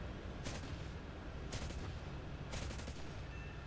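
Naval gunfire in a video game as anti-aircraft gunners shoot at an incoming bomb, three short rapid bursts about a second apart over a continuous loud rumbling engine drone.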